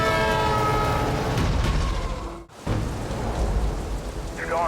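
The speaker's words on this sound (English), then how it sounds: "We got trains coming." Loud freight train rumbling past on the Trans-Canada Highway with a long, sustained horn blast, broken by a brief dropout before the rolling rail noise returns along with a short horn toot.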